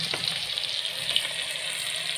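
Chillies and tomatoes frying in hot oil for a purslane fish curry, a steady close bright sizzle that holds evenly throughout, with no talking.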